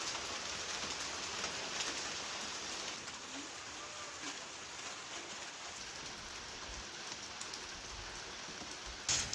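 Steady rain patters on a surface in the hills, a continuous soft hiss with scattered droplet ticks, heard alone without voices.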